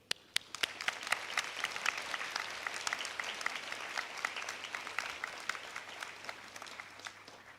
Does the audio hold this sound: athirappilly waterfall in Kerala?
no